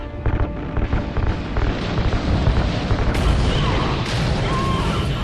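Loud, continuous explosive roar with rumbling bursts as ignited RCS fuel lines blow in Call of Duty: Ghosts, dense booming throughout with no talk.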